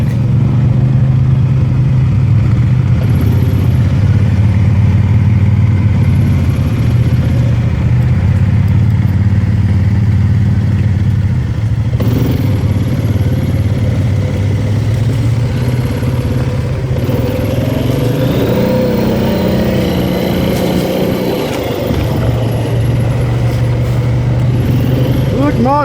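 A motorbike engine runs steadily and loudly throughout a first ride while breaking trail through brush. Its drone is constant, with clattering and occasional shifts in pitch, and a rider talks over it.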